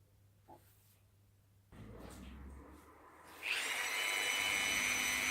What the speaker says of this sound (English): So I'm going to set to now drill this glue stick